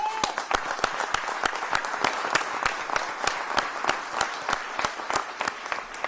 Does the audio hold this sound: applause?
yes